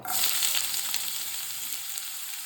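Chopped onion, one large finely cut onion, sizzling in hot coconut oil for a chicken and liver roast, a steady bright frying hiss that starts strong and stays even throughout, with no talking.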